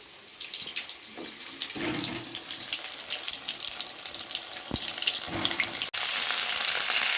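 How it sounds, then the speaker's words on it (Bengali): Pointed gourd and potato pieces fry with turmeric and salt in a pan, giving a constant bright hiss like running water, with a few soft knocks and one sharp click near the end. "হলুদ দিয়ে পটল আলুটাকে ভেজে নিতে হবে"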